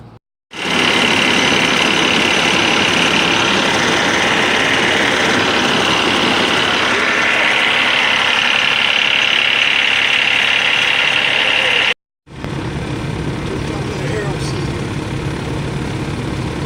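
A broken-down truck engine cranked and run at a training yard in Burleson, Texas, a loud, steady rumbling drone close by that cuts out briefly near the end, then picks back up.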